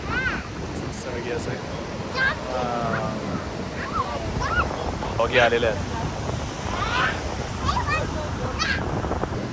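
Rough monsoon sea waves roar steadily on the Konkan coast, with strong wind buffeting the microphone, while faint voices drift in and out beneath the surf.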